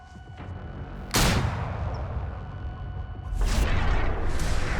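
Gunshots from a weapon firing a Schappert round into ballistic gel, two loud sharp blasts about two seconds apart, close and booming, each trailing into a long noisy rumble.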